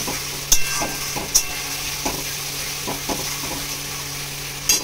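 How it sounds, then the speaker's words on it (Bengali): Garlic and ginger paste sautéing with chicken for curry in a pan, a steady sizzle with a few sharp spatula scrapes and clinks against the pan, alone without talk. "এবার এটাকে এর সাথে ভালো করে"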